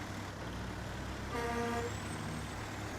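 A Kenworth T880 truck engine in the video game SnowRunner rumbles at a steady low idle throughout, with a brief higher tonal whine rising partway through.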